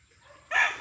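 A young rooster crows on a Philippine farm: one short, fairly faint call rising out of quiet background at the end of the clip.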